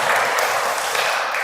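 A church congregation claps together during a Sunday service, a brief, steady wash of many hands applauding evenly with no talk over it.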